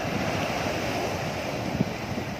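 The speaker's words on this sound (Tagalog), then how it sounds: "Yung naririnig ko yung alon" Steady ocean surf washing onto a beach, a continuous broadband roar with wind buffeting the microphone and no voices.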